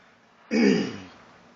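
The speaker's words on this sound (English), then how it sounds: "so I have to clear my throat" A single throat clearing, one short, loud, raspy burst close to the mic that lasts about half a second and fades out into quiet.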